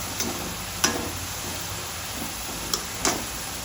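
Chopped vegetables tempering in hot oil, a soft, steady sizzle with a few light clicks and stirring taps spaced apart, fairly quiet and close with no talking.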